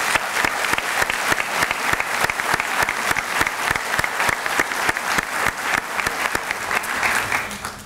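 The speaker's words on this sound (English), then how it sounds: "a huge round of applause to everybody tonight" Audience applause for honorees at a school celebration evening, loud, dense and sustained clapping with prominent rhythmic sharp claps in an even pulse from nearby hands, continuing throughout before easing slightly at the end.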